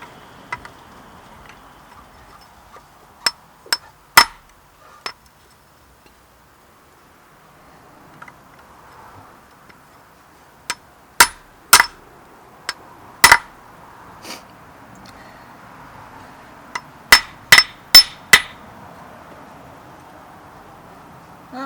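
A hammer strikes a Viking-style flint striker on a Viking anvil, giving sharp ringing metallic clinks in irregular clusters with pauses between them, over a faint background hum.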